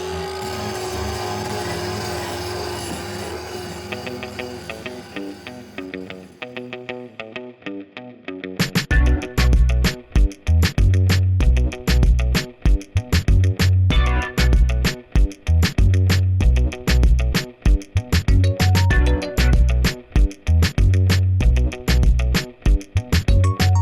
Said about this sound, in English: I'm going to use the grinder over here and knock off the big stuff